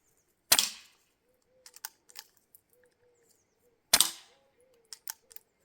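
Two sharp, loud pops from an Artemis CP2 air pistol about three seconds apart, in a cellar, each followed by faint clicks and small mechanical rattles in between.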